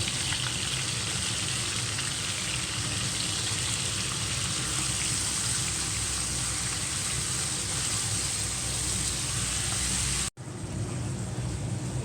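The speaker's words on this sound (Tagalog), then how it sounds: "Igisa lang muna siya hanggang sa maubos yung kanyang tubig" Vegetables sauté in a pan, their water cooking off in a loud, steady sizzle that runs almost unbroken, with one brief dropout near the end.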